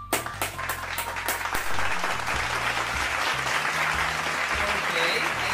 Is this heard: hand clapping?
yes